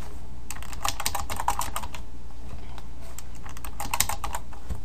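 Rapid, irregular clatter of a computer keyboard being typed on, close and continuous over a faint steady background hiss, with no talking.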